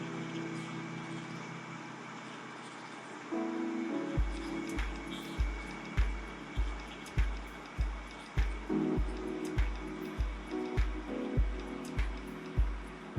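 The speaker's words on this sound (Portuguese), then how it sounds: "Baixar um pouco mais a vazão de ar. E aí vou dar o calor novamente" A hot air rework station blows steadily on an SMD component, its airflow a soft even whoosh, with a faint repeating rhythmic thump in the background through most of the clip.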